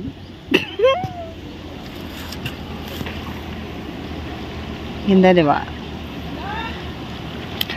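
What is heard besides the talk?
river water flowing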